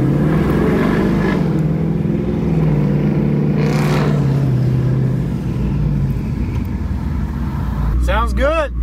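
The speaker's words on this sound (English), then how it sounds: "Sounds good. That thing got a Hemi in it." A Hemi-engined drag-racing car with an automatic transmission revving, a rough, rising and falling engine roar heard at a distance beneath people talking.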